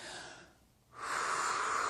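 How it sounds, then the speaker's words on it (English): A slow deep yoga breath, golden thread style, drawn in through the nose: a soft airy inhale, a brief quiet pause, then a stronger steady breathy stream, close and quiet. "We'll just take 5 deep breaths here."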